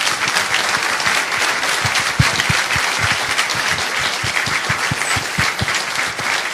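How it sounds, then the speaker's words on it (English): Sustained audience applause for candidates at a public schools candidate forum in Houston, a dense steady clatter of many hands with a few sharper individual claps standing out, no talking. "One more time, let's give our candidates a round of applause."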